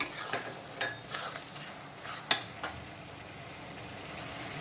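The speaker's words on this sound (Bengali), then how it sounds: "এখন আমি দিয়ে দেবো চেরা কাঁচা লঙ্কা" Slit green chillies go into frying onions, and the pan sizzles steadily with scattered clinks and stirring scrapes, including one sharper knock midway.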